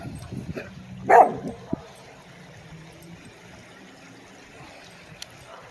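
A Spitz husky mix dog at an outdoor dog park gives one short bark, then a few softer yips fading into quiet ambient background.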